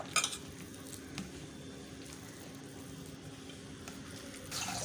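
Rava and rice flour batter is stirred in a bowl as water is added little by little, giving a soft, steady wet swishing with a couple of faint clinks near the start and end, with no talking.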